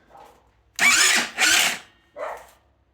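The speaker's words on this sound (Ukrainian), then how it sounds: "тепер пробуємо покрутити з вкрученою свічкою" A small engine with its spark plug fitted, running again after a long idle and on a weak battery, is cranked over in two loud, close bursts of mechanical whirring, then a third shorter one.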